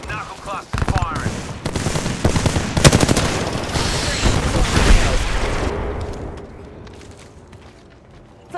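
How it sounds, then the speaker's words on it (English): Knuckle cluster fired in the Apex Legends video game, a dense burst of rapid popping blasts and booms over the first six seconds, loud and close, with game sounds fading to quieter ambience afterward. "Stand back, knuckle cluster firing."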